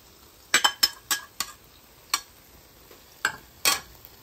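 Sweet and sour chicken being tossed on a griddle, with a series of sharp metal spatula clinks and scrapes in quick bursts over a quiet background, no talk.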